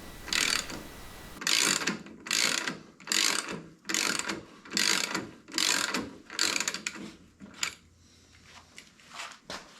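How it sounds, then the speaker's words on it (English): A hand ratchet loosens the rear axle nut on a 1981 Harley-Davidson FXS-80 Lowrider, clicking in a series of quick bursts with short pauses between strokes, close and fairly loud. "So now I'm loosening the rear axle because I want to get the that bracket out that holds the caliper in."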